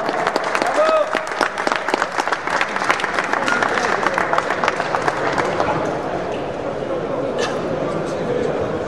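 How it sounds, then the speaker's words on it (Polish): An audience at a car rally award ceremony in Poland claps in sustained applause, dense and close at first, then thinning and fading, with a presenter speaking over it. "Gorące brawa."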